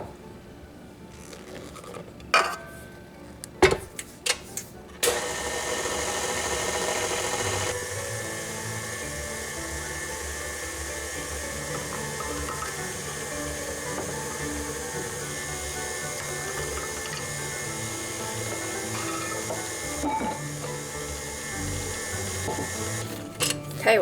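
An electric mixer churns kringle dough as flour is worked in, starting after a few clunks and taps, then running as a continuous steady motor whine with a small change in pitch partway through.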